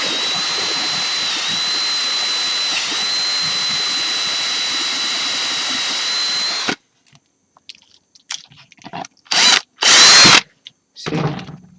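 A drill whines steadily at a high pitch while boring holes in a plastic PlayStation 2 case, then stops, followed by a few short bursts of drilling and handling noise.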